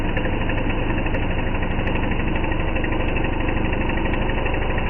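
A large chainsaw powered by a moped-sized engine of about 9 horsepower runs steadily and loudly at a constant idle-like drone, close by, with no speech over it.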